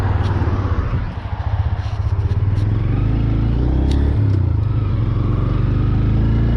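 A Honda Grom motorcycle engine runs loud and close as it is ridden, a steady buzzing drone with a brief dip and surge early on.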